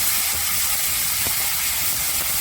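Chopped tomato, coriander and mint fry in ghee with a loud, unbroken hiss close by. No one speaks over it.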